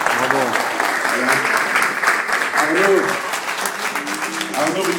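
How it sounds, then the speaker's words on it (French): An audience applauds a rescuer named Arnaud at a French Shabbat gathering, steady broadband clapping filling the whole stretch while voices talk and cheer over it. "vous pouvez l'applaudir"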